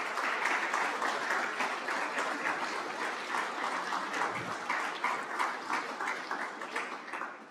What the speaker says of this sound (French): Un dévouement qui représente un engagement exemplaire, je pense, et qui mérite nos plus chaleureux applaudissements.